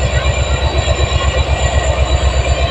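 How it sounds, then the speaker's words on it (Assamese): A train rumbles past steadily at Silonibari railway station, Lakhimpur, close by and loud, with a low repeating mechanical pulse from the engine and wheels running throughout. "এইটো ট্ৰেইনখন"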